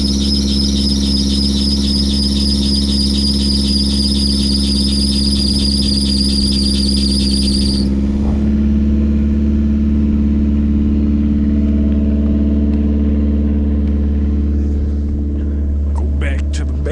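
A car engine cold-starting in 2° weather gives a loud, high squeal over a steady low idle rumble for about eight seconds. The squeal then stops and a rough engine rumble carries on alone.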